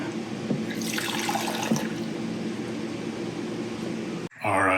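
Steady running water pours from a tap in a remote lakeside cabin for several seconds, a broad continuous rush that cuts off abruptly near the end.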